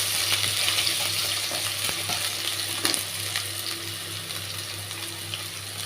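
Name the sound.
stirring potatoes frying in a pan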